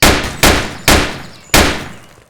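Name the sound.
gunfire from a weapon in the video game Emergency Hamburg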